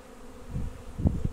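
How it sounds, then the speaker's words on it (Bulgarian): Honey bees fly around their hives on a cool autumn afternoon, a soft continuous buzzing hum with a few louder low passes as individual bees come close. "пчелите облитат се и се прибират"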